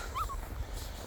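A puppy out in the snow gives short, high whimpering yips near the start, soft and close over a low background rumble.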